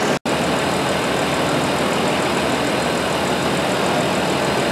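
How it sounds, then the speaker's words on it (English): Car engine idling steadily under the hood while AC manifold gauges are connected, a constant broadband hum with one very brief dropout near the start and no talking. "Again, with the engine still running,"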